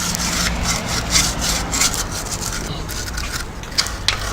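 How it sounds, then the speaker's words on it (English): A wire brush scrubs around the transmission area of a Landcruiser with an A440F, A442F or AW450-43LE automatic, giving loud, close, rapid raspy back-and-forth strokes that continue throughout. "Now I'll just give a bit of a scrub with the wire brush"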